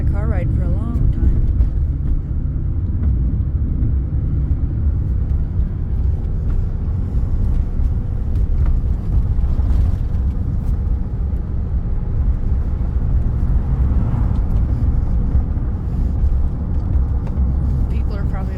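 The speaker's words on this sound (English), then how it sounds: "he sure is enjoying his car ride" A car drives along with a window rolled down and a dog's head out of it: loud, steady low rumble of road and wind noise throughout, with no distinct other sounds standing out.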